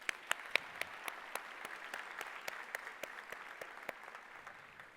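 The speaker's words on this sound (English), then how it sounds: "Please give him another round of applause." Sparse, fairly quiet clapping from a small group at a hall of fame induction ceremony, with distinct individual claps at an uneven, slowing pace.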